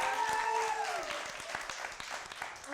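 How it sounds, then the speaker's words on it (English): Studio audience applauding a guest chef on a late-night college TV show, a steady wash of clapping with some crowd noise and a tonal musical sting fading in the first second. "so get a round of applause for him"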